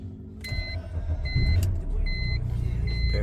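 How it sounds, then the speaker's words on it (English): A BMW 3 Series with an EWS3 immobiliser cranks and starts on a newly programmed key, settling into a steady low engine rumble. Several short electronic chimes ring out over it. "Now the key start the car."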